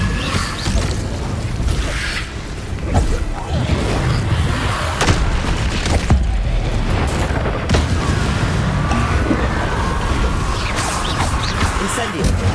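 Incendio fire spell cast in the Hogwarts Legacy video game: loud, dense rumbling blasts and booming bursts roll on continuously in a busy combat mix, with crackling flares and sharp impacts layered throughout.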